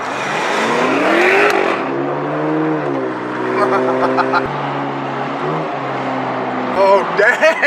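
A Mercedes car revs hard and accelerates nearby, its engine note climbing in repeated rising sweeps, loud and close, with people talking over it.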